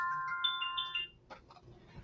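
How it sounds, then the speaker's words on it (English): A mobile phone ringtone plays a bright, repeating electronic melody during a papercraft session, fairly faint and close, cutting off after about a second with a few quiet knocks and rustles following. "my phone going off"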